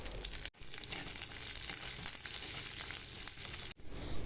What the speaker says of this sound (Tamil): நறுக்கி வைத்துள்ள சின்ன வெங்காயம், பெரிய வெங்காயம் இரண்டையுமே சேர்த்து நன்றாக வதக்கிக்கிங்க